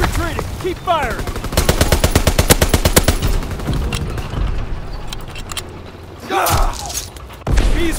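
Automatic weapon fire in Call of Duty: WWII, a long rapid burst of shots up close followed by scattered thumps and single distant blasts, with voices shouting over the battle.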